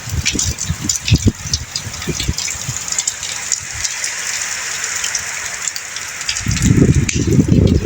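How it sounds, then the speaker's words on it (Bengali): Steady heavy rain hisses and patters close by, with gusty noise rising toward the end; no voices are heard. "সকালবেলা কত বৃষ্টি নেমেছে, সাথে বাতাসও আছে"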